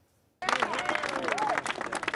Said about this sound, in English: To cheers and applause